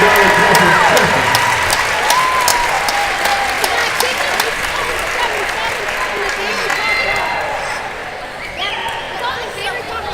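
A crowd applauds loudly in a high school basketball gym, a dense sustained roar of clapping and cheering mixed with crowd chatter and a voice over the public address, fading slightly toward the end.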